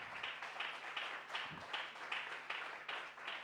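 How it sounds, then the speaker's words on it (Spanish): A church congregation claps together in a steady, rhythmic burst of applause, a dense wash of hand claps pulsing evenly for several seconds at moderate distance. "Dale un aplauso al Señor"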